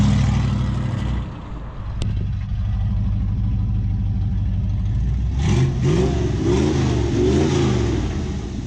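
A 1969 Dodge Charger's engine rumbles low and loud while driving, dipping briefly, then building into deep throaty revs with rising and falling pitch sweeps and no talking.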